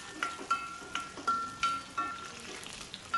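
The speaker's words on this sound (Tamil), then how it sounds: "கத்திரிக்காயை எண்ணெயிலேயே ஒரு 2 நிமிஷம் நல்லா வதக்கிக்கணும்." Eggplant sautéing in oil in a pan over low heat, a soft sizzle punctuated by repeated rhythmic spatula strokes and light metallic clinks, close and without talk.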